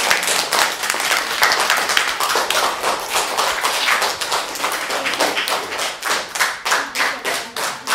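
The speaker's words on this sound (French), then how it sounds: "vous avez le droit de les applaudir" A classroom audience applauds students, dense rapid hand clapping that stays loud and close, then thins toward the end into more spaced, distinct claps.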